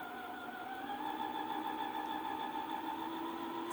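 A Brother SE600 sewing machine stitching at a steady, even speed, its motor giving a continuous close hum with a fine mechanical whir, alone and fairly quiet.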